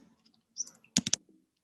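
A brief burst of several quick keyboard clicks, close and crisp, following a few faint scattered taps in an otherwise quiet room.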